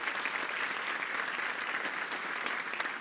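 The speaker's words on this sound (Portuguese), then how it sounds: "Recebe ele, gente, com um aplauso aí, com alegria" Sustained applause from a church congregation fills the whole stretch, a dense steady clatter of many hands clapping at even loudness.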